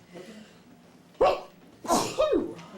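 Several sneezes burst out in a quiet meeting room, one sharp one followed after a pause by two more in quick succession, each with a breathy, voiced snap, close and clear.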